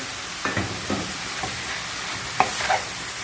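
Tomatoes sautéing in a hot pan for a homemade pizza topping, a constant bright sizzle with several spatula scrapes and taps spaced through it, near and fairly loud.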